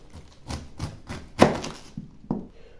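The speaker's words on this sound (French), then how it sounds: "En premier lieu, je vais donc enlever le trognon du chou." A knife taps and chops several times against a cutting board while cutting out a cabbage core, irregular thuds with one sharper cut near the middle, close and fairly quiet.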